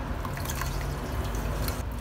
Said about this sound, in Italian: In un tegame versiamo i 400 g d'acqua e versiamo anche i 300 g di zucchero.